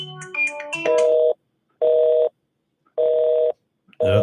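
Telephone touch-tone dialing for a radio call-in: a quick run of mixed beeps, then three long, evenly spaced ringing tones with silent gaps, close and clear, with no talking.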